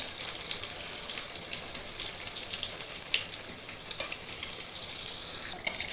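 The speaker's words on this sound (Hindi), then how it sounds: "हम इसके ऊपर तेल डालते हुए इसको पका लिए हैं। अब इसको हम एक एक करके पलट दे रहे हैं।" Pear-shaped samosas fry in oil in a pan with a steady, close crackling sizzle that continues throughout, dotted with occasional sharper pops and light scraping.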